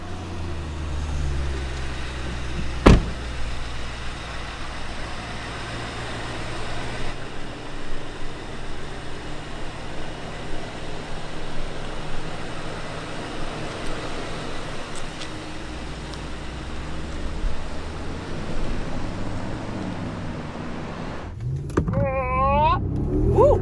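Maybach GLS 600 with a 4-litre V8 of almost 560 horsepower driving on the road, a steady low engine and road rumble with broadband cabin noise throughout, a brief knock early on and a chiming tone near the end.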